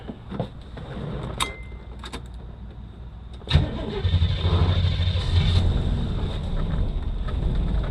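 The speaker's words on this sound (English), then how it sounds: "It's idling." A Jeep engine with a fuel leak cranks, catches and settles into a steady, rough idle, running close by with a low throbbing hum.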